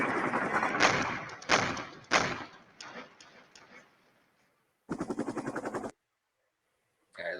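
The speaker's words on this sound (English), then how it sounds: "Or mortar, probably mortar fire." Mortar rounds land in the Cold War wargame Flashpoint Campaigns: Southern Storm as three heavy thuds with ringing tails in quick succession. A sharp, rapid ticking burst follows about a second later, then silence.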